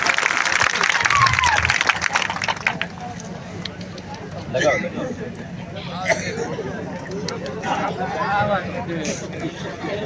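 A crowd at an outdoor political rally applauding to welcome a guest, with loud clapping at the start fading into murmuring chatter and crowd noise.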